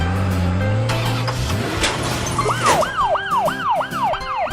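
A cartoon ambulance siren starts up over upbeat children's music, a series of rapid repeated rising-and-falling wails that begins partway through and continues loud and bright to the end.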